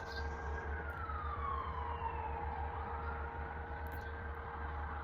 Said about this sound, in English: Sirens are probably being played by God to cue the next part